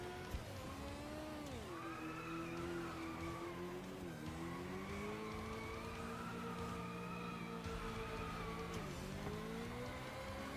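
A car drifting in a racing video game, with a steady engine drone rising and falling and long tire squeal through the whole stretch, loud and continuous with no talk.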